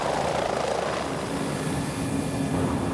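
Helicopter rotor and engine noise drones steadily and loudly over Antarctic shipping lanes, a continuous rumbling wash with no voices.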